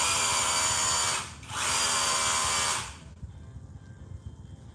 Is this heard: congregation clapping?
no